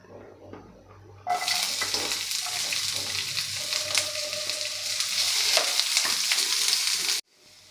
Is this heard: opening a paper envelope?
no